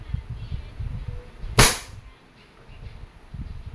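A single sharp crack from a Umarex M92A1 Beretta-licensed airgun pistol rings out close and loud, set between stretches of low murmuring speech.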